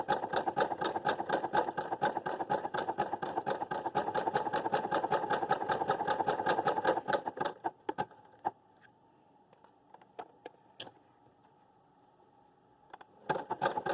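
A sewing machine stitches swim fabric in a fast, even mechanical chatter for several seconds, then stops, leaving a quiet stretch of faint clicks and handling before a brief burst of stitching resumes.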